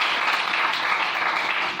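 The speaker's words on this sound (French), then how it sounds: "Est-ce qu'on peut acclamer pour le Seigneur?" A church congregation applauds for the Lord during a French sermon, a dense, even wash of clapping that holds steady from start to finish.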